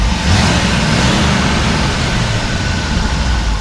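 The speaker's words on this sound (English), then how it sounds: "Go ahead and rev it up a little bit." A 1964 Chevrolet Impala engine with power steering and a fan shroud revs under an open hood, a loud, continuous roar held close throughout.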